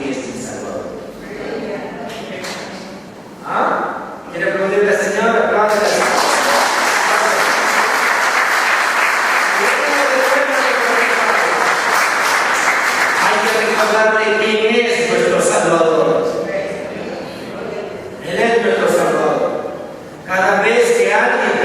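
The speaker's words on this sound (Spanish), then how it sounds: "¿Quiere aplaudirle al Señor? Apláudale." Members of a church congregation clap together for the Lord during a sermon, a sustained wash of applause rising after spoken preaching and lasting about ten seconds before a voice resumes talking.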